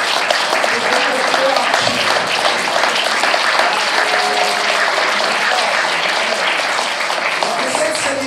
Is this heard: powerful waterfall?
no